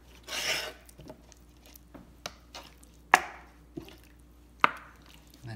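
A knife cuts through the thigh joint of a whole raw chicken on a board, with a wet rustle followed by a few distinct, spaced knocks of the blade hitting the board.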